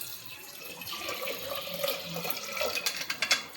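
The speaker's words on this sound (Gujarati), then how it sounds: "આમાં પાણી નાખીશું." Water poured over washed lentils for Rajasthani dal makes a faint, close trickle that builds into louder splashing toward the end.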